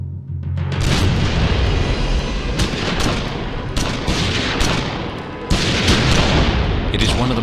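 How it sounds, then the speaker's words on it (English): Gunfire erupts on the Sunset Strip at dawn, a dense run of loud booming blasts and rapid shots filling the scene, with a voice talking partly beneath it. "the stillness is shattered by the blast of gunfire"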